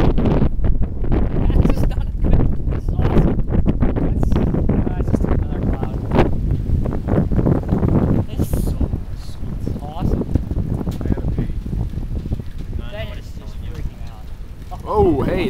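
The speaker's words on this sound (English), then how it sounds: "That's a gust." Strong gusting wind buffets the microphone in loud, broadband rushes, with people talking over it and water or rain noise beneath.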